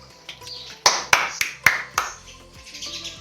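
Hand claps in a home kitchen during potato wafer making: about five sharp, fairly close claps in an uneven sequence, followed by fainter clatter and a soft background hum.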